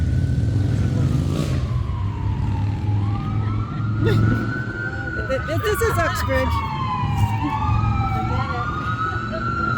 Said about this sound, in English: You have annoying ambulances here too, okay.